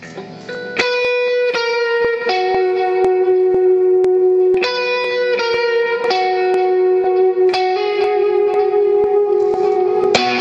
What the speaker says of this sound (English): Here's the tape echo.